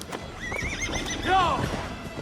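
In the Assassin's Creed Valhalla video game, a horse lets out a sharp rising neigh amid hoofbeats, with a voice talking over part of it.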